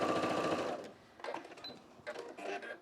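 A sewing machine stitching through a scrap piece of fabric, a steady mechanical whirr at first, then shorter bursts of rapid stitching close by.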